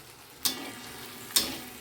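Kashmiri chilli powder and sugar being sautéed in a pan for a doi enchor (young jackfruit) dish, with two sharp sizzling bursts as ingredients hit the hot oil, each fading into a steady low frying hiss.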